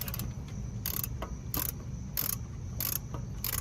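Ratchet wrench loosening bolts on a Honda Insight Gen 2 hybrid AC compressor, five or six short, crisp clicking bursts at a steady pace, close and fairly quiet against a low background hum.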